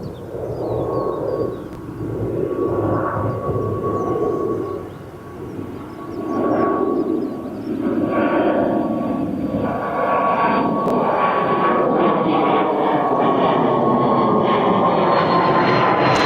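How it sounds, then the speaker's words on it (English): A Cessna Citation XLS business jet roars at Birmingham Airport, a loud sustained engine rumble with a whine that swells and fades slightly before holding steady. "What is that little Cessna Citation XLS"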